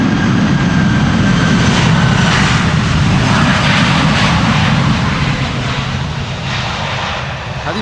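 Airliner touching down in a crosswind with a bit of reverse thrust, a loud sustained jet engine roar close by that slowly eases off.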